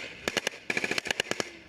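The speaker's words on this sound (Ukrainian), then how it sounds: "Бійці полку Нацгвардії Азов на бронемашині відстрілюються від бойовиків." Gunfire from soldiers of the Azov National Guard regiment firing from an armored vehicle near Mariupol: a rapid series of sharp, distant cracks in uneven bursts, rather faint.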